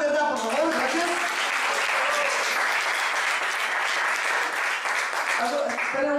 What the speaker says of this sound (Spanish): Entonces aplausos.